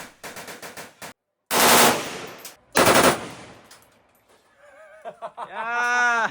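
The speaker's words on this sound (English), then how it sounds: "let's do the shooting. I couldn't resist. I chose the AK-47." An AK-47 rifle fired at a shooting range in Vietnam, several bursts of loud sharp automatic gunfire separated by short pauses, followed by quieter voices and laughter.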